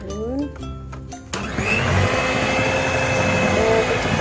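Electric hand mixer on low speed blending banana cake batter, a steady loud whirring drone that starts abruptly after a moment of talking and runs on evenly.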